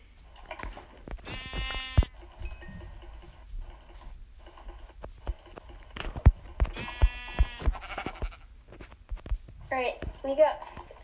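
Minecraft sheep bleat in two clear, drawn-out calls and a shorter one near the end, mixed with game clicks and footsteps while a person talks between them.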